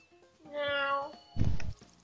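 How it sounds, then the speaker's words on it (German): A cat meows twice, a drawn-out harmonic meow and then a shorter, louder one, close and clear with no talk over it. "Senpai sagt miau."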